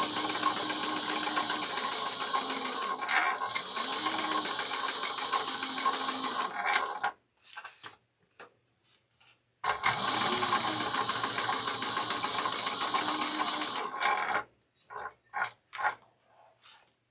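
A sewing machine stitches a handbag seam in two fast, steady bursts of rapid mechanical whirring, each followed by brief clicks and pauses, close and clear with no talk.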